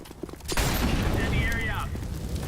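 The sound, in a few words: incendiary grenade thrown, from video game CS:GO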